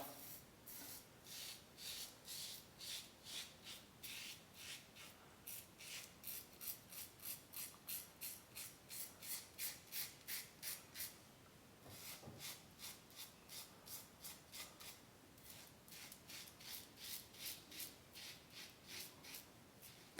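Rhythmic scraping strokes of a Merkur 23C safety razor across stubble, repeated quickly and close, with a brief pause midway.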